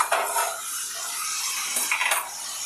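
Brinjal fry being stirred in a pan with onions and green chillies over medium flame, giving steady scraping and clinking of a spatula against the metal pan, close and continuous, with no talking.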